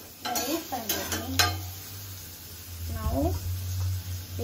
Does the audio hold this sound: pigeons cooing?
no